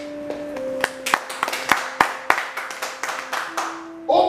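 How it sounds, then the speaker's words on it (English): Scattered clapping from a church congregation, a few distinct sharp hand claps at irregular intervals, fairly close, with a voice singing or speaking faintly underneath. "Clap for yourselves."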